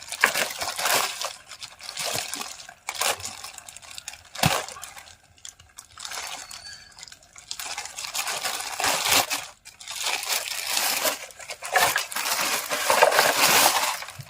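Plastic packaging of a toy trolley tractor being torn and opened, with repeated crinkling and rustling bursts close by, pausing briefly between handling sounds and no talk.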